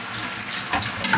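A kitchen knife rinsed under a running tap, a steady broadband hiss of water splashing off the blade and sink, close and continuous with brief brighter spatters near the end.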